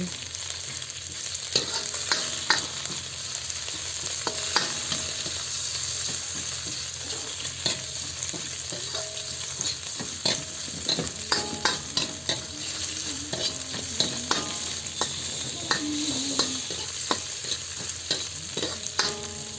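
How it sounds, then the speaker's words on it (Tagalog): Peeled shrimp sauté in a pan for pancit canton, a steady sizzle of frying under repeated scraping and clacking of a utensil stirring against the pan. "Gisahin lang natin yan hanggang sa maging kulay orange na ang hipon."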